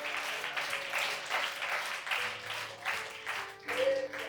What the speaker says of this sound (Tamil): சந்தோஷமாய் கைத்தட்டி கர்த்தரை மகிமைப்படுத்துங்கள் பார்ப்போம்